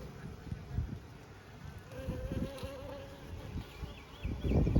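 Honey bees buzzing around a Layens hive during an artificial swarm inspection, a close, wavering drone with individual bees flying past the microphone, rising and falling in loudness.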